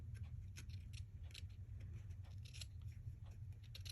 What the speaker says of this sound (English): I love my little scissors for doing that,